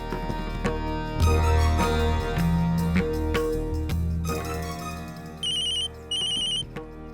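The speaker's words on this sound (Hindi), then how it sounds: "माँ, घर से फोन है।" A phone ringtone chimes in a melodic electronic pattern, then repeats in short bursts near the end, close and clear.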